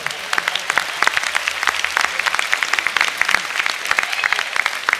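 A graduation ceremony audience claps in a busy, crackling patter of many hands, steady throughout, moderately close and without talk over it.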